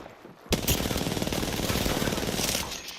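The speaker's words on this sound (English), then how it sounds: "Shots fired." Rapid automatic gunfire from the battle royale video game Apex Legends, a loud, dense burst of shots beginning abruptly after a brief quiet and continuing steadily to the end.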